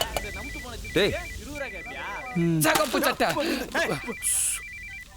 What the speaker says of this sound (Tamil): என் பொண்டாட்டி ஃபோன் பண்றான்.